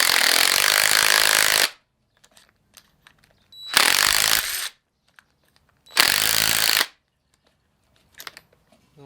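A power wrench tightens a threaded engine part in three loud, close bursts of about two seconds each, separated by quiet pauses filled with small metallic clicks.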